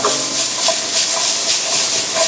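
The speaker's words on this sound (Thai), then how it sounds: "เราจะผัดไปเลยครับ ใช้ไฟร้อนจัดจัดเลยนะครับ" Large red onions stir-fried in a pan over very high heat, a loud continuous hiss and sizzle with faint rhythmic scraping and tossing.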